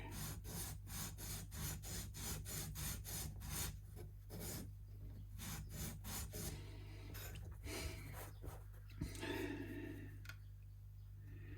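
Hand sanding with 80 grit sandpaper on the wooden bridge area of a Fender MIM Thinline Telecaster, a rapid series of close rasping back-and-forth strokes with brief pauses, steady low hum underneath.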